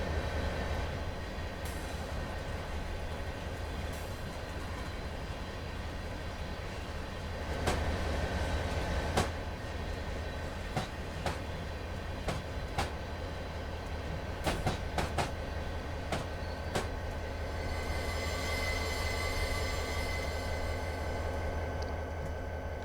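Train pulling two boxcars in Train Simulator on Sherman Hill, a continuous low rumble with scattered sharp clicks of wheels over rail joints and a faint squeal near the end.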